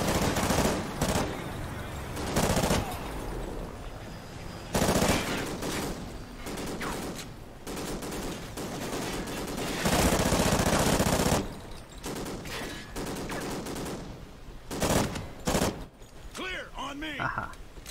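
Sustained automatic gunfire in the Call of Duty Ghosts campaign, loud bursts and rattling volleys across the whole stretch with short pauses, while soldiers shout orders over the shooting.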